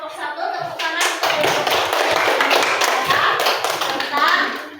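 Classroom applause for a student group, a burst of many hands clapping for several seconds, loud and close, with children's voices mixed in.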